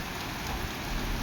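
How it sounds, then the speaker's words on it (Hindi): Monsoon rain falling steadily, a dense, even hiss of drops pattering on surfaces, close and continuous with no pauses. "बरसात के मौसम में"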